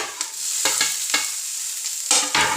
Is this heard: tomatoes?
yes